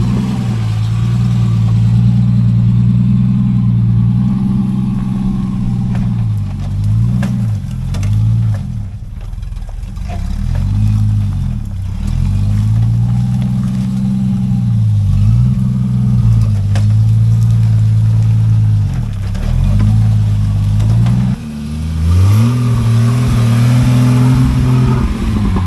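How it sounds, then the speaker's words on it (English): A 1988 Jeep Wrangler YJ on 40-inch tires drives off-road with a loud, close engine drone, rising and falling in repeated revs and gear changes over about twenty-five seconds. "I'm just going to go take the Jeep out"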